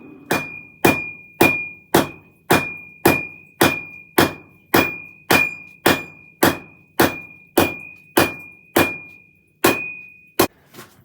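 A hammer strikes a heated steel knife blade on the anvil at a forge, flattening it to thickness: about fourteen loud, evenly spaced metallic blows, each with a bright ringing tone and short decay, close and alone.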